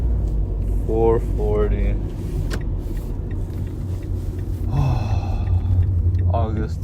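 Steady low road rumble inside a moving car on the drive home, continuous and even, with someone talking over it throughout.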